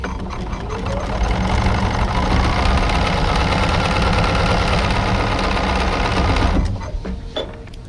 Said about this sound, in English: So let me sew this real quick.